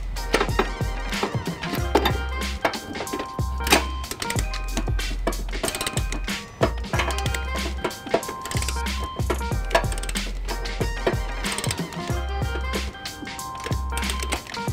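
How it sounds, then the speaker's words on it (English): A torque wrench tightens M8 trailer hitch bolts with a 13 mm socket on a 2008 Ford Taurus X, producing dense, rapid ratcheting clicks in bursts, loud and close, mixed with clanks and a low rumble. "We're gonna go ahead and torque that down."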